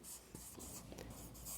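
Chalk or marker scratching across a board during a physics lesson, a steady run of short rubbing strokes, close and fairly quiet, with no talk over it.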